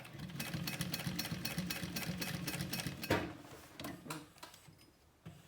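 A sewing machine stitches a leather Pocket Pal wallet in a quick, even mechanical chatter. The run stops about three seconds in, followed by a few sparse clicks and handling taps.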